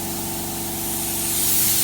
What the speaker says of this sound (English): This gun always has air moving out